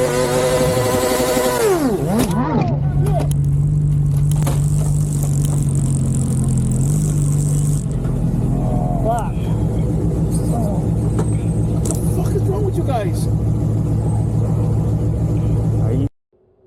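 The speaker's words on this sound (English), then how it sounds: "a motorcyclist dangerously revved his engine" A motorcycle engine revs aggressively at night at a stoplight, with a loud rumble and rising and falling pitch sweeps near the start. A steadier drone follows, with voices and road noise mixed in.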